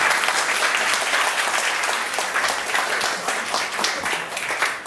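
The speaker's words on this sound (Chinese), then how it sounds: "大家在热烈鼓掌，欢迎一下。" An audience applauding warmly at an indoor talk, dense and sustained clapping from many hands filling the room without pause.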